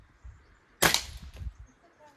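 A single sharp gunshot cracks out during target shooting at a glove, loud and brief, followed by a short rumbling echo that fades within a second.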